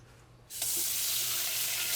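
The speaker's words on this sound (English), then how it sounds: "Let me just wash my hands real quick." A kitchen tap turns on after a quiet half second and runs in a steady, close rush as hands are washed at the sink.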